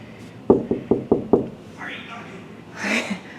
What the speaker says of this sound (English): And then we're gonna knock, because Chandler's here.